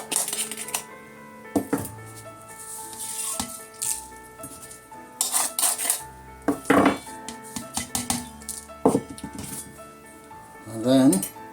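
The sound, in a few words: spoon scraping stuck bits in a pan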